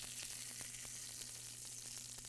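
Pepper-crusted beef tenderloin steaks searing in a hot pan: a dense, steady hiss of sizzling fat with small popping crackles, faint and continuous, with a low background hum and no talking.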